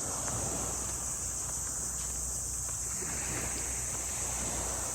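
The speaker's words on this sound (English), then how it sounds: "Just be quiet a minute and let you listen to the crickets, or cicada I call them." A steady, high-pitched buzzing drone of crickets or cicadas fills the air without pause on a morning beach in Palawan, Philippines, with faint wind and water-like rushing underneath.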